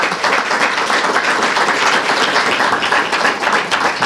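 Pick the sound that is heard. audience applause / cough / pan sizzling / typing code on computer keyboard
audience applause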